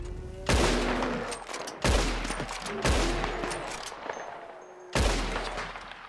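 Four heavy gunshots boom at a large creature in Red Dead Redemption 2, each a loud close blast trailing into a long rumbling echo, spaced about a second or more apart.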